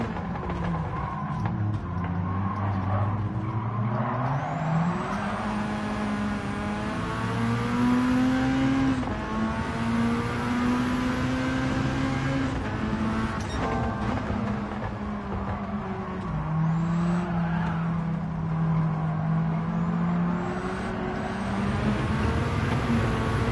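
A car engine in Gran Turismo 7 drones steadily with rising and falling pitch through gear changes, loud and continuous during a race.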